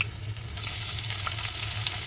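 Ginger frying in oil with cumin seeds in a wok, giving a close, continuous hiss and sizzle with a few faint crackles.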